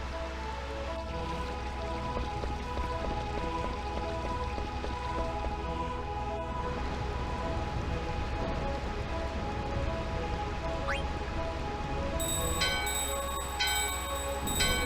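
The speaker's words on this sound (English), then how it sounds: "The bell in your hand and the doorbell are ringing." A hand bell and a doorbell ringing in the game Final Fantasy IX, heard as a faint steady chiming over a dense ambient music bed, with bright rapid ringing strikes near the end.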